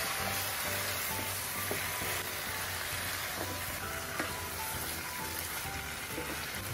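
Chopped bottle gourd frying with chicken curry in a pan makes a continuous, moderately quiet sizzle, with occasional scraping and stirring knocks from a spoon and no voices.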